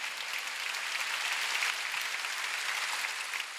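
A church congregation claps together during a Sunday worship service, with dense, steady applause filling the whole stretch and no voices standing out.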